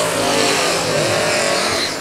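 Drag race cars in the old school versus modern muscle final at Houston Raceway Park, a loud sustained engine roar with revving that fills the whole stretch, no talk over it.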